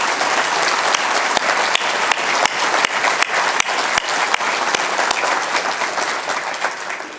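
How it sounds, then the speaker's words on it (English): Loud, sustained audience applause at a city's State of the City address fills the whole stretch, dense clapping with sharper individual claps standing out, steady from start to finish. "let's give them a well-deserved round of applause"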